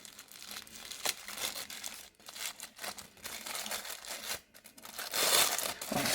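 A hard, non-woollen wrapped gift being unwrapped, its paper crinkling and tearing in loud bursts and rustles with brief pauses, close by and heard alone.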